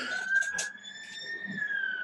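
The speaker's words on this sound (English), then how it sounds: "Bloody ambulance." An ambulance siren holds a steady high wail at a moderate distance, with voices talking and chattering over it.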